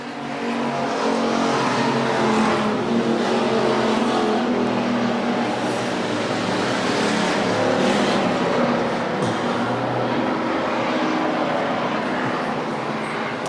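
Bomber class stock cars race around an oval track at USA Raceway, their engines roaring loudly and continuously as the field comes off a turn, a dense blend of revving motors without pause.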